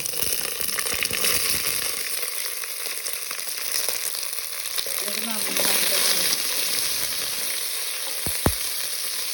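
Green chillies for mango pickle fry in hot oil, a continuous close hissing sizzle with soft crackles and a single sharp knock near the end; no one speaks over it.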